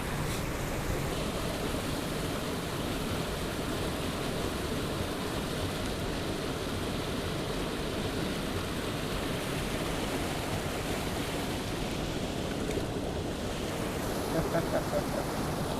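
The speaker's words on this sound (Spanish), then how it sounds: "Llegamos al pozo de la cascada." A waterfall pours into a pool on a trout stream, giving a close, constant rushing roar that stays even from start to finish.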